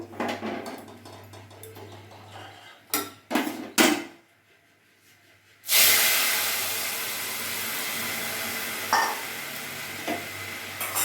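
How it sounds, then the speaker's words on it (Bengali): Mung dal is poured into hot tempering oil in a pan. A few clanks and scrapes of utensils come first, then a sudden loud burst of sizzling that settles into a steady frying hiss, close and with no voices. "আর এই ফোড়নের তেলের মধ্যেই আমি ডালটা দিয়ে দেবো"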